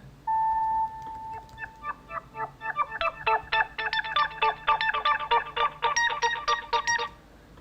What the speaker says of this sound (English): there's some Moog layered on top of that live, so this kind of delay sound.